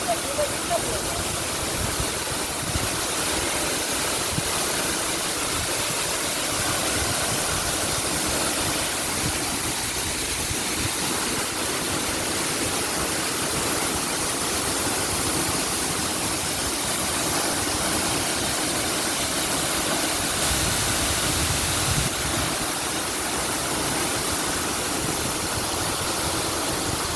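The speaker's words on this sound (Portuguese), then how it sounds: "eu estou aqui na queda principal da cachoeira" The main drop of Santa Luzia waterfall in Afonso Cláudio, Brazil, pours in a loud, steady, unbroken roar of rushing water from start to finish.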